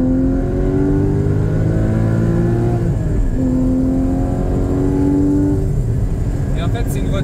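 A Porsche Cayman GT4 981 naturally aspirated engine revs hard toward the redline in two rising sweeps with a brief shift between, loud and close, with a driver's voice over it.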